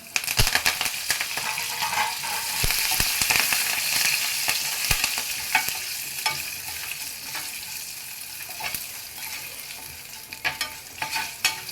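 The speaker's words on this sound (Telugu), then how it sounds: "పోపు అయితే మంచిగా వేగింది" A tempering of spices, asafoetida and curry leaves fries in oil, crackling and popping loudly up close, with rapid snaps and stirring scrapes over a continuous sizzle and no speech.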